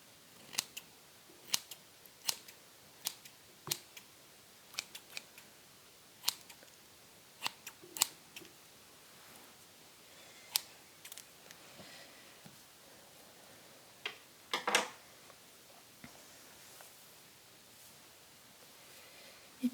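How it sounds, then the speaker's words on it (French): Scissors snip a small lock of hair in quiet, close sound, with a series of crisp individual cuts at irregular intervals, separated by brief faint rustles. "couper cette petite mèche là."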